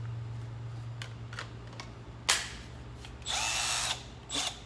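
A Milwaukee M12 impact tool runs in short bursts: a few brief taps, a sharp whirring burst, then a longer sustained motor whine and a final short burst, close by.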